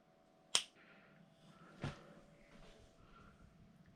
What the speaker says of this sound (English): I'm going to snap my fingers and it's going to all be done